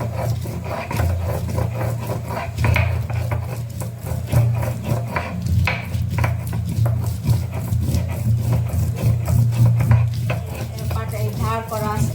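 Onion, nuts and two kinds of cumin being ground by hand on a shil-pata stone slab, a continuous close rhythmic scraping and rubbing with repeated strokes and a low steady hum beneath.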